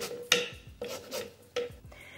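Lime zest rasped off on a grater in a home kitchen while mixing a crunchy slaw dressing: several short scraping strokes in irregular rhythm, close and fairly quiet, with no talk.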